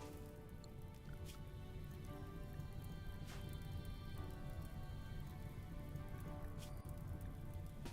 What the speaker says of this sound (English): Okay, it started raining anyway.